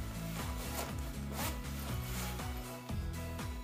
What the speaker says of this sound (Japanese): チャック閉めてみます。